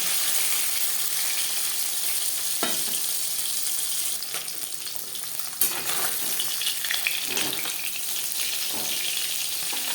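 Koi fish frying in oil in a home kitchen, a constant dense sizzle at moderate level with occasional louder spatters and stirring scrapes, no voices.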